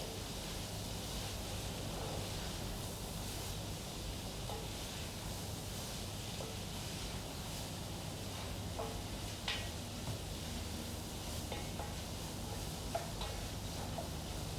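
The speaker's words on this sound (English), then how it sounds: "You'll hear them start crackling." Soft, continuous sizzling with faint scattered crackles, like grains toasting in a hot pan, steady and fairly quiet.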